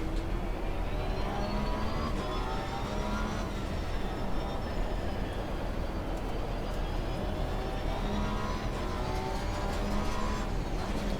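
Porsche race car in Assetto Corsa Competizione, its engine a steady, continuous drone with whining harmonics that rise and fall slightly as revs change, loud and alone with no talk.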